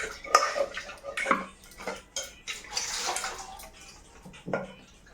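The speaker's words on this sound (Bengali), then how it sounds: "এই দেখো ধুয়ে নিচ্ছি প্রেসারটা কড়াটা ধোয়া হয়ে গেছে তাই প্রেসারটা ধুয়ে নিচ্ছি" Pots and pans clanking and scraping as a pressure cooker and a wok are washed with just a little water, with irregular metallic knocks and splashy rinsing bursts at close range.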